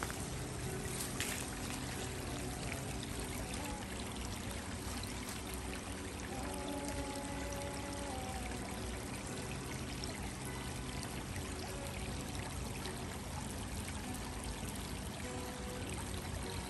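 A bubbling brook flows near a retreat center camp, a continuous, even rush and trickle of water heard alone at moderate, steady volume.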